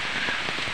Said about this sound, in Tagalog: Lakas ang ulan dito, bagyo talaga.